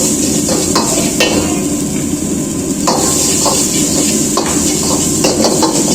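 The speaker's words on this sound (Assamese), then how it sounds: "এইটো আমি ব্ৰাউন হোৱালৈকে ফ্ৰাই কৰিম।" Chopped ginger and onion frying in a pan for crispy chilli baby corn, a steady loud sizzle with occasional scraping stirs and utensil knocks against the pan.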